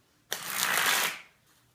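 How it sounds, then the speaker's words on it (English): A crisp riffle of playing cards, close and loud, lasting about a second before fading into a faint tap as the deck is cut. "different ways to cut the cards"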